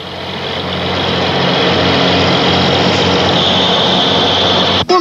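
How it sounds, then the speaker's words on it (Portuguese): Bus engines idle loudly and steadily at a rural workers' lodging, a continuous close diesel drone that fills the whole stretch, with a brief dip near the end. "Os homens se apressam na direção dos ônibus, que já estão com os motores ligados."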